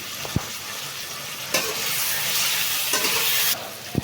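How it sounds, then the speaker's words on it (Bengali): Potatoes and onions frying together in a pan with garlic and ginger, a steady close sizzle and hiss broken by a few sharp clicks and stirring knocks, the sizzle swelling louder in the middle stretch. "এইভাবে করলে আমার আলু ও পেঁয়াজ একসঙ্গে ভাজা হচ্ছে"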